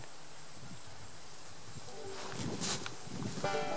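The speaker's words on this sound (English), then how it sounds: "Listen to the crickets." Crickets chirp steadily on an Oregon blueberry farm, a thin high continuous trill running throughout, with faint rustling and footstep-like noises underneath and a few brief louder bursts near the end.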